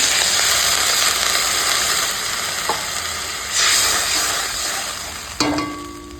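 Water is poured into a hot kadai of well-fried spice paste, raising a loud continuous sizzle that surges in a couple of bursts and ends with a sharp clank.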